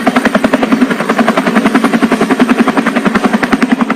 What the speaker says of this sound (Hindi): करीब 2 बजे वहां एक लामा हेलीकॉप्टर उड़ता हुआ आया।